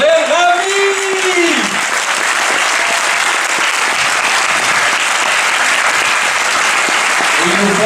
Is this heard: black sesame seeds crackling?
no